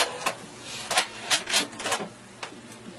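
A sewing machine stitches in reverse to tack fabric on a pillow project, running in several short, close mechanical bursts separated by brief pauses.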